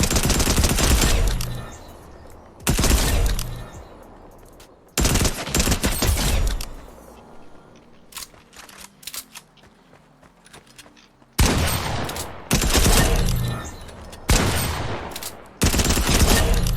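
Bursts of rapid submachine gun fire in a Fortnite or Overwatch match, loud close volleys lasting a second or two each, separated by quieter gaps with faint clicks and movement.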